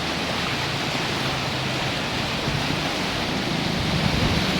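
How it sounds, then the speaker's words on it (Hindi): Fast water rushes through a rock-cut canal fed from a barrage, producing a loud, steady, broadband roar that stays constant throughout with no voices. "पानी का बहाव कितना तेज़ है नहर के अंदर"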